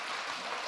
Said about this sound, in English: Oh, got some applause there.